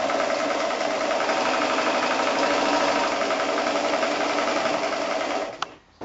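A sewing machine runs steadily, stitching quilt fabric along a quarter-inch seam for a wonky triangle block, a continuous close mechanical whir that stops abruptly near the end.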